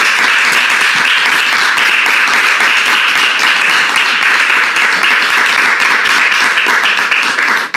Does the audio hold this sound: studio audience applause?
yes